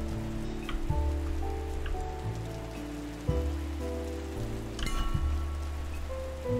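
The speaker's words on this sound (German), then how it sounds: "Ach, Regen und Gewitter." Rain in a video game, a steady patter on surfaces throughout, layered over soft sustained game music tones, with no thunder clearly standing out and no talk.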